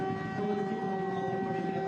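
A steady, wavering air raid siren holds in the background, distant and continuous, with faint ambient noise around it, during a Ukrainian Premier League football match between Kolos and Karpaty.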